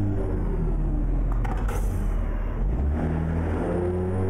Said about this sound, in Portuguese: É o sonzinho da marcha passando aí